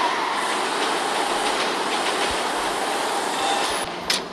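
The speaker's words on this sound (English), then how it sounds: "Now the train hits the Vectra." A video-game train rumbles past a modified Vectra car with continuous loud wheel and rail noise, ending in a brief sharp impact-like burst near the end.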